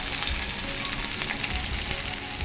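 Surmai fish steak frying in a pan for a Mangalore-style fish fry, a steady, close, loud sizzle that hisses continuously throughout with no talking.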